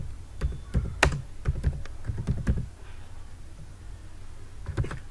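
Fingers type on a computer keyboard in quick bursts of crisp, close clicks, pausing around the middle, then resuming with a short final flurry, with no voice over it.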